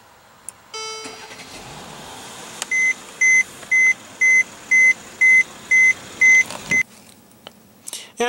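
2015 Mercedes-Benz E350 with 3.5-liter V6 and push-button ignition starting up, preceded by a short series of regular interior chimes, then the engine catches and settles into a smooth idle.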